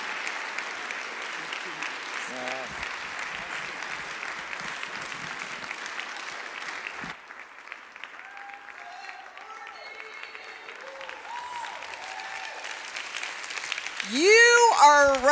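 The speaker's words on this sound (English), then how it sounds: "Will you clap crazy loud for Pastor Jeanne Mayo as she comes to bring the word" A church congregation claps loudly in a sustained wash of applause for the first half, then the clapping fades as voices and cheers rise, with a loud swell at the close.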